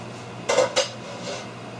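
A metal pan holding cassava scrapes and clanks twice on a stovetop, two quick close knocks followed by a softer slide, over a steady background hum.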